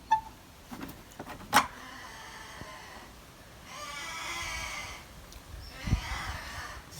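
A falconry bird in its aviary lets out harsh, wailing territorial cries in a few bursts, fairly distant and faint over low background noise.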